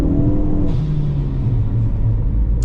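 A Ford Focus ST mk3 engine while driving, a loud close cabin rumble with the revs dropping after a gear change and then holding a steady low drone, no talking.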